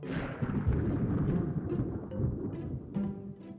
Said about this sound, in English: It took a lot longer to hear the thunder after the lightning this time.